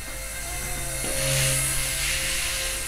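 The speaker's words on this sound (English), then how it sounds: "It flies like a true collective pitch helicopter" Blade mCPX collective pitch micro RC helicopter: small rotor whine with a high buzzing motor hum that swells in pitch and loudness as the model lifts, steady and close.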